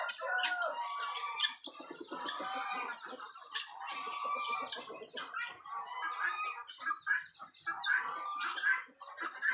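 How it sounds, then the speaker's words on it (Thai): Bantam chickens cluck and squawk continuously at close range, a busy overlapping chorus of short calls and a few higher cries, with no talk over them. "เดี๋ยวเราจะมาปล่อยไก่ไก่แจ้กันเลย"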